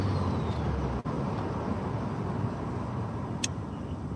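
A turbocharged four-cylinder car engine gives a steady, close droning rumble that holds at an even level throughout, with one brief dip near the start.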